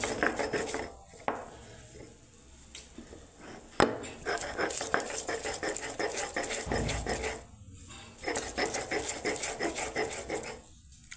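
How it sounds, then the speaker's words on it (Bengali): Coriander leaves, mint leaves, garlic and green chillies are ground on a stone slab grinder, with rhythmic scraping and rubbing strokes, close and continuous with brief pauses, and faint speech in the background. "আমি শিলনোড়ায় ধনে পাতা, পুদিনা পাতা, রসুন আর কাঁচা লঙ্কা পিষে নিচ্ছি"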